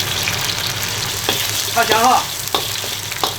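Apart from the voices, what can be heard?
garlic, ginger, dried chili and Sichuan pepper frying in oil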